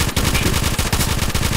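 Rapid automatic gunfire from a weapon in the military shooter Arma 3 with the Desolation zombie mod, a loud, close, continuous burst of evenly spaced shots with no voices over it.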